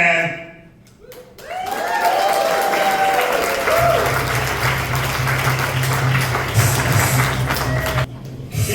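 Audience in a comedy club applauds a comedian in a competition quarter final: dense, loud clapping swells up after a moment and carries on steadily, with a few voices over it. Near the end it is briefly cut off.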